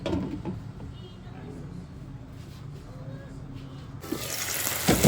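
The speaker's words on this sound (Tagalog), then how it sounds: "Maglagay ako ng tubig. Isang basong tubig para maluto yung manok natin." Water runs and splashes into a pot of chicken, a steady wash of pouring that swells louder near the end, close by with faint kitchen noise.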